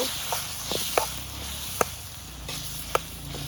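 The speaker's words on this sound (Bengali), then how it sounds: "এখন ভালো করে নেড়ে চেড়ে নিব" A pan of potato curry fries with a steady sizzle while a spoon stirs it, giving a few sharp scrapes and taps against the pan at irregular moments, close and fairly loud, with no talking.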